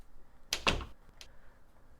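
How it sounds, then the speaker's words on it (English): A door knob twists and a door opens, making two close, quick clicks followed by a faint later knock in a quiet room. "Finally, with a deep breath, I twisted the knob and opened the door to room 7."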